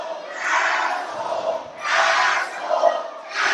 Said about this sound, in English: The crowd letting Stallion Rogers know what they think of him.